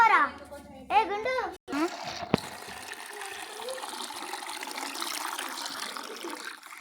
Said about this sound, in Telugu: ఇప్పుడైతే నీళ్ళు అయితే పొయ్యపోతున్నాం